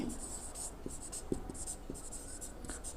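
Writing with a pen or chalk during a physics lesson on diffraction gratings, heard as faint, scratchy strokes and taps in short bursts under a quiet room hum.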